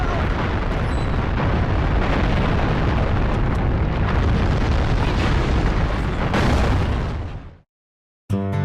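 Explosions from the video game Steel Battalion Heavy Armor roar as a dense, loud barrage of booms and bursts that runs for about seven seconds, fades out, then cuts back in briefly.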